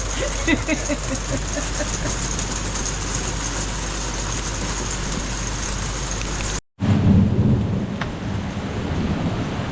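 Heavy rain roars steadily with deep rumbling thunder throughout, a brief dropout, then the downpour and low rumbles continue close and loud.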